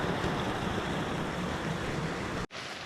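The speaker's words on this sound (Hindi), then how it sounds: "बरसात के टाइम पे यहाँ पे इतना ज़्यादा पानी आ जाता है ना, देखिए आवाज़ देखिए, गदेरा टाइप आ जाता है" A monsoon-fed mountain stream rushes in a steady, dense roar of water during heavy hill rains, loud and close throughout, then cuts off abruptly near the end.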